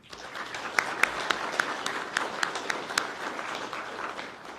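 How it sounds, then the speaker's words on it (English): An audience at a police academy graduation gives a round of applause, with scattered individual claps standing out over a soft, fairly distant patter of clapping. "Ladies and gentlemen, please give them a round of applause"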